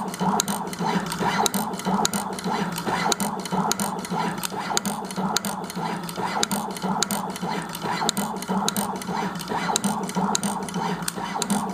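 A NeoDen TM-240A automatic pick-and-place machine runs with a busy, rapid mechanical clicking and whirring. The texture stays steady and evenly loud throughout, with nothing else over it.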